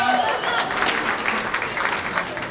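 Guests at a wedding reception applaud the bride, a full, steady round of clapping with brief voices mixed in underneath.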